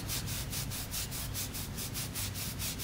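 An exfoliating hammam glove rubbed back and forth with a steady, rhythmic coarse scraping, each stroke repeating about five times a second, close and fairly quiet.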